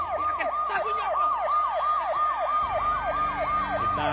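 An emergency vehicle siren wails in a fast, regular rising-and-falling cycle, loud and close, with a low engine rumble joining partway through; no talking.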